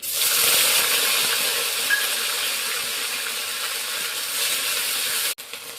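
Five-spice seeds, green chilli and a ground paste of ginger, cumin, poppy seed and onion sizzle steadily in hot oil, a loud even hiss that ends abruptly with a clunk near the end.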